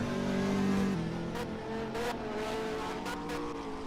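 Race cars on track at the Hoosier GP GTI feature, including a BMW Z4, engines roaring and revving close by with shifting pitches under a commentator's talk.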